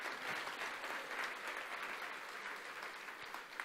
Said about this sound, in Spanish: Ahí era el aplauso.